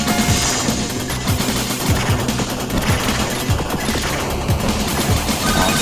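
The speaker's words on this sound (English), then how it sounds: "The laser's a much better weapon." In Mega Turrican, the laser weapon fires in rapid, continuous bursts of energy shots, loud and dense over busy game action, with no talking.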